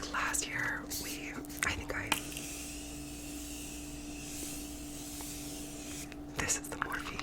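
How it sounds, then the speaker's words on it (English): Morphe continuous setting mist sprays in one long, soft, continuous hiss at close range, with quiet whispering just before and after. "this is the Morphe continuous setting mist"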